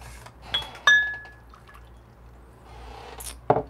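A La Pavoni espresso maker purges really hot water, with a few bright metallic clinks and liquid drips over a quiet low hum, and a sharp splashy burst near the end.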